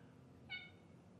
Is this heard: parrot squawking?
no